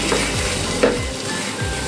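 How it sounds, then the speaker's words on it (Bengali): Chicken pieces fry with spices and dried fenugreek leaves in a pan, a dense, continuous sizzle broken by rhythmic scraping strokes as the meat is stirred. "চিকেনের সাথে মশলাগুলো কিন্তু খুব ভালো করে কষতে হবে।"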